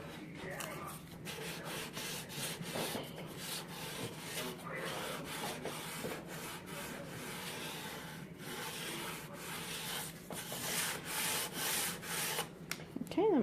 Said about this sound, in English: sand that off of there, just very lightly